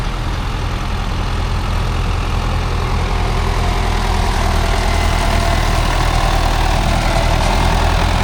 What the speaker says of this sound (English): A couple more tractors turning up now. Massey Ferguson 135